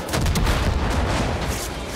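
Grenade launcher fire in the video game Far Cry 5: a loud, continuous rumbling blast of explosions fills the whole moment, dense and booming with no gaps.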